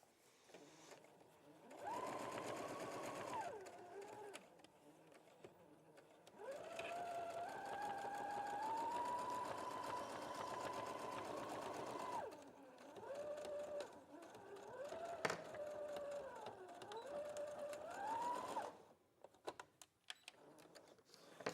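A sewing machine stitching fabric in several steady whirring runs separated by short pauses, close and clear, with a few light clicks and handling sounds between runs.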